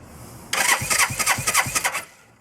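A 1990 Suzuki GS500 motorcycle engine, not running, spins on its starter for about one and a half seconds: a close, rhythmic chugging crank that never catches, then stops.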